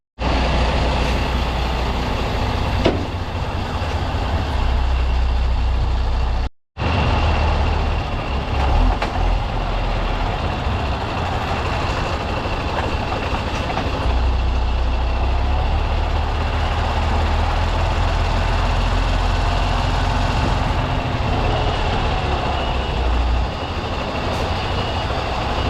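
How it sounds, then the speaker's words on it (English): A truck engine idles steadily at a haulage yard during a trailer swap, a continuous close low rumble with mechanical hum that holds level throughout, broken only by one momentary dropout. "Back at the yard now, time to drop this and pick up the other one, so we'll do a trailer swap."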